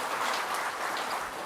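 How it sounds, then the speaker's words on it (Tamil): Applause from an audience at a Tamil certificate award ceremony, a steady dense patter of many hands clapping throughout, moderately loud and without speech. "எல்லாரும் கைத்தட்டிடலாம் அதுக்காக"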